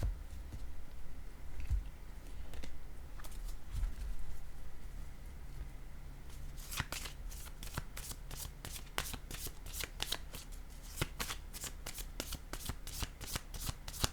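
Playing cards are shuffled up close, first with scattered soft handling taps, then a fast run of crisp riffling bursts repeating steadily through the second half.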